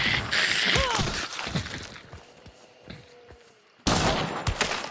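Gunfire in the colony sim Norland, with a dense crackling burst of shots up front that thins to scattered reports, then a loud new volley crashes in near the end.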